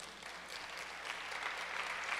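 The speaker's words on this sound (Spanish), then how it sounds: "Un aplauso a Jesús." A church congregation applauds in a steady, fairly soft wash of clapping that lasts throughout, with no voices standing out.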